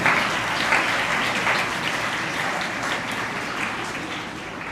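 Sustained audience applause fills a Christian youth church celebration, a dense, even wash of many hands clapping that holds steady before easing slightly toward the end.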